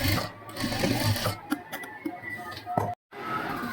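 Sewing machine stitching piping thread onto decorative latkans, a close, steady mechanical whir that briefly cuts out near the end, with a person speaking faintly underneath.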